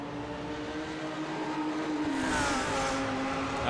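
Engines of BMW and Audi GT race cars in a sim-racing 24 Hours of Spa endurance race whine steadily, and a group of cars sweeps past with rising and falling pitch in the final seconds.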